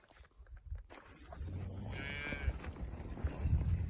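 Cattle moo during a cow gathering on a ranch, with a couple of clear moos rising out of steady outdoor rumble, one mid-distance call followed by more lowing from the herd, no talking.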